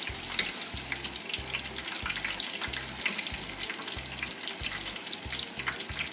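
Green peppers fry in very hot oil in a pan, giving a steady close sizzle and crackle with a repeating low pulsing thump underneath, and no voices.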